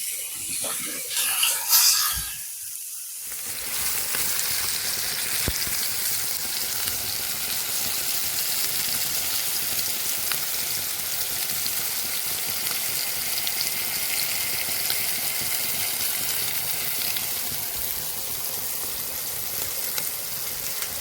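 A beef steak fries in a pan with a loud, steady sizzle that runs unbroken for many seconds, after a brief scraping moment at the start.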